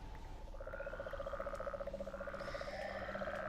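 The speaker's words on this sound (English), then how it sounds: "we have the ribbiting toads" Toads croaking in the Minecraft video game, a rapid repeated croaking trill that carries steadily over soft ambient background, with no talking.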